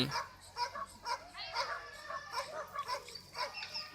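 Dogs at a flyball game in a garden show ground, heard as scattered yips, whimpers and short excited barks, moderately distant and fairly quiet against a busy outdoor background.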